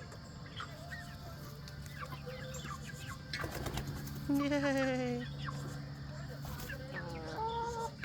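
Onyx teen chickens cluck and squawk as they join a backyard flock, scattered calls near and far, with a brief wing flap and a person cheering.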